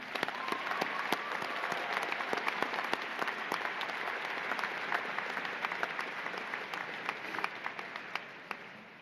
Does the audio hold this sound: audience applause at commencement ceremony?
yes